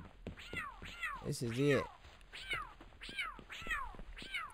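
Several cat-like Pal creatures in the Palworld game meow repeatedly in a steady rhythm of descending calls, with one longer, louder wail in the middle, while someone talks over them.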